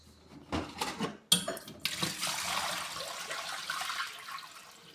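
Water poured out of a pot of boiled eggs, beginning with a few clanks of the pot and then a gushing splash into a sink that tapers into a steady trickle, close and alone.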